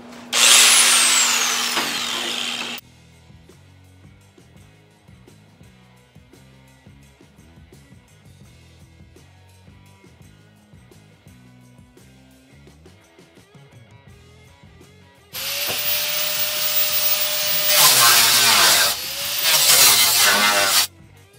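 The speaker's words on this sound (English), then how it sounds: "I'm switching to the pneumatic here, because I thought I had more cutoff wheels for my DeWalt" A pneumatic cutoff tool with an abrasive wheel cuts into the metal rear frame of a 1970 Challenger in two loud, harsh bursts, with a quieter stretch of low rumble between them.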